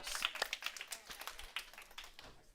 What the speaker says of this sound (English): round of applause for the Sober Souls